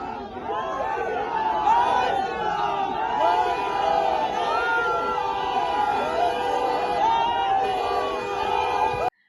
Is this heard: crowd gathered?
yes